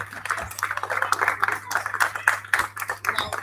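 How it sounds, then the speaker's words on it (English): Students and staff at a school Literacy Week assembly clap for the principal, a scattered, uneven round of hand claps at moderate distance with some voices mixed in. "Let's give our principal a big round of applause."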